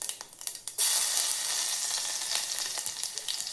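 Coarsely crushed garlic hits hot oil already crackling with cumin and mustard seeds for a spinach and moong dal tempering. After a few light crackles, a loud, dense sizzle bursts in and holds steady, close and continuous.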